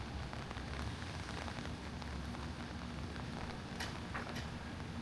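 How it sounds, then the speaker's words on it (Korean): Steady rain pours onto a street in Usadan-gil, Itaewon/Hannam-dong, Seoul, a dense continuous patter and hiss with a few brief brighter splashes, no voices. "마침 오늘도 비가 오네요."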